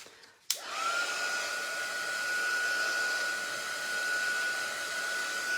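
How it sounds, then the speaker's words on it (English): A heat gun switches on with a click and blows steadily close by to dry stamping ink on paper, a constant airy roar with a thin whine that holds for several seconds. "I heat it with the heat gun to get it dry quicker"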